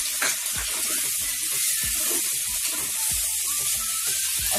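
Green chilli pieces and tomatoes sizzle in hot oil in a frying pan, a steady close hiss broken by soft clinks and stirring taps, with no talking.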